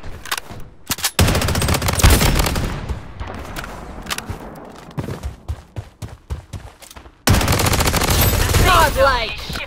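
Rapid bursts of automatic gunfire from the video game Blood Strike crackle close and loud during ranked gameplay, with short pauses between volleys and a heavy sustained barrage near the end.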